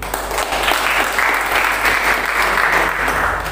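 Audience at a youth organisation discussion forum breaks into loud, steady applause, dense clapping sustained throughout with a faint murmur of voices underneath.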